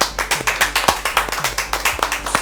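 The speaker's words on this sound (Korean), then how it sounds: "환영과 감사의 마음을 담아 박수를 드리겠습니다" A small group in a news company's conference room claps to welcome an interview guest, with distinct, rhythmic hand claps in a quick, fairly close series.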